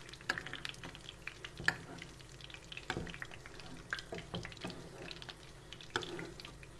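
Veal cutlet sizzling in butter in a pan while being continuously basted, with a faint steady crackle and spatter broken by soft clinks and scraping.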